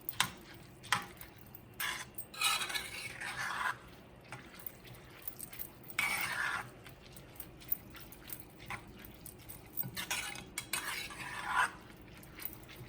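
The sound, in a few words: stirring seasoning into rice in a pot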